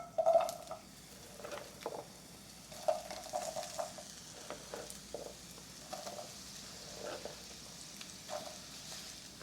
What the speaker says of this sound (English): Got me a hot skillet. I'm throwing just a little bit of oil in there. And then I'm going to start throwing in my veggies in there.